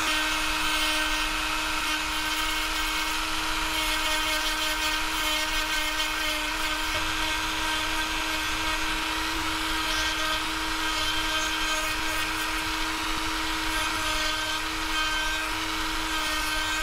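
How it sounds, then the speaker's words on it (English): A large rotary burr bit grinds steadily into a wooden jerkbait lure body, hollowing it out with a continuous high-pitched whine and buzzing rasp, close and unbroken throughout, no talking. "I'm just gonna hollow all this out. Just leave it at that. With this big scraggly burr bit."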